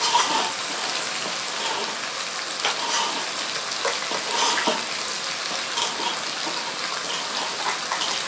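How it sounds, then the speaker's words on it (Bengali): Tomato paste hits a hot, sizzling pan of butter masala paneer, giving a steady, close crackling fry with faint stirring clicks throughout. "এবার দিয়ে দেবো টমেটো বাটা টমেটো পেস্ট"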